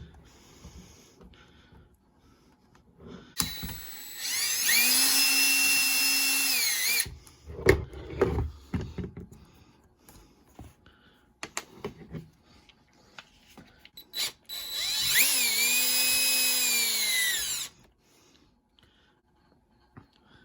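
A power drill backs screws out of a Traxxas 2WD front bearing carrier, two loud whirring bursts of about three seconds each, separated by quieter clicks and handling of small parts.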